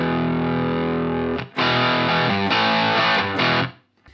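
Electric guitar with light overdrive plays a sustained chord, a short pause, then several strummed chords before fading out.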